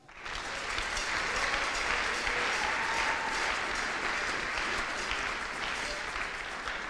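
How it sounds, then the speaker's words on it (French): A church congregation applauding the Lord, a dense, sustained wave of clapping filling the room from start to finish at steady volume. "Acclame le Seigneur."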